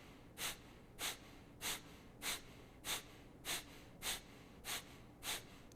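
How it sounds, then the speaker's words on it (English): Forceful Kapalabhati skull shining yoga breathing, with nine sharp, evenly spaced nasal exhalations about every 0.6 seconds, close and fairly quiet, with no talking. "It's your abdominals pushing the diaphragm up, and then the abs soften, the diaphragm pulls down, and the inhale happens naturally."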